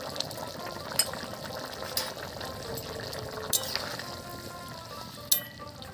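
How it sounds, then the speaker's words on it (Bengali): Ground garam masala paste sizzling in a pan with egg and jackfruit: a soft, bubbling fry under a few sharp clacks of utensils spaced about a second apart. "এবার দিয়ে দিচ্ছি গরম মশলা বাটা।"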